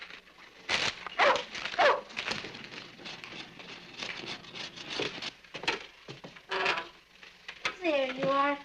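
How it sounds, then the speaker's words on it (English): A small pet dog in a family home moves about with soft yelps and whimpers, brief patters and clatters around it, ending in a clear rising whine near the end, mixed with background voices. "He's a sweet dog."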